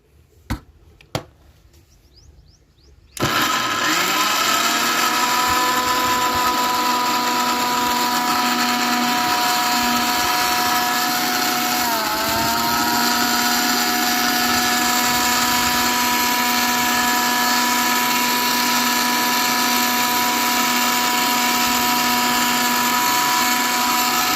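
A mixer grinder blends jaggery and grapes for a bioenzyme, starting after a few faint knocks with a loud, steady motor whine and a slight dip in pitch midway, continuing unbroken to the end with no talk.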